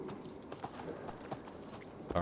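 A horse gallops in the video game Assassin's Creed Valhalla, rapid rhythmic hoof clops running through the clip under a quiet game soundscape, with a sharper burst of sound at the end.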